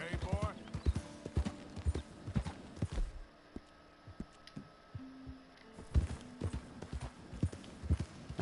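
Horse hooves clip-clop in short bursts in Red Dead Redemption 2, with a possible whinny. Someone talks over them, and there is a quieter stretch in the middle.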